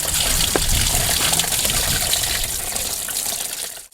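A 120-litre water tank drains in a steady, loud rushing gush that continues for several seconds and fades at the very end, with no voices.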